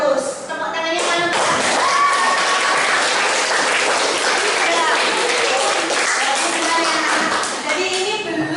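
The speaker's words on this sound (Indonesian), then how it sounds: "Tepuk tangannya mana?" A classroom of schoolchildren claps together in a loud, dense burst that holds steady for several seconds, with kids' voices calling out over the applause.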